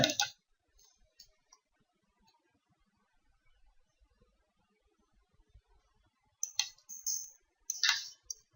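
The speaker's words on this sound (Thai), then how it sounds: "เดี๋ยวไปคลิกเข้าไป" A computer mouse clicks while XAMPP is being installed on a Windows PC. A few faint, sparse clicks come through a near-silent background, then a couple of brief louder bursts near the end, with no talking.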